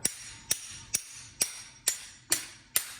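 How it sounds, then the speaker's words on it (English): A small hammer taps on a riveted part of a Kirby Ultimate G vacuum cleaner during a teardown, seven sharp metallic clinks evenly spaced about every half second, close and clear with no talking. "Now, looks if I tap with a small hammer,"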